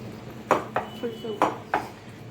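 Spoon scraping and clanking against a pan while stirring a rajma mixture, several sharp metallic knocks in an uneven rhythm, close and fairly quiet.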